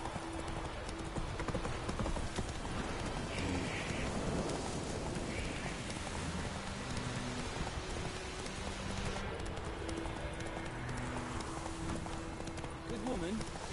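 Roach the horse gallops in The Witcher 3, hooves clip-clopping in a rapid rhythm beneath rain and a low rumble, with a voice speaking over the running.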